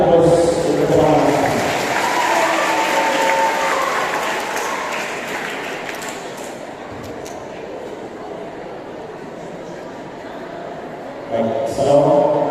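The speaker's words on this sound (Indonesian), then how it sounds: "sekali lagi berikan aplaus untuk teman-teman." Audience applause at the closing ceremony of a university student orientation program, a broad steady wash of clapping from a large crowd that slowly fades before a brief louder swell near the end.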